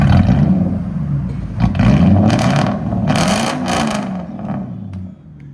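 A 2002 Lexus LS 460 with a 4.6L V8 and true dual straight pipes revs loudly and close, with several deep, raspy throttle blips that rise and fall and a rough, throaty roar between them.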